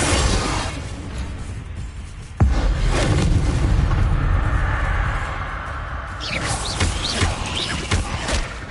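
Confringo spell in Hogwarts Legacy detonating with a sudden loud blast, followed by a rumbling, crackling roar and debris-like noise that slowly settles.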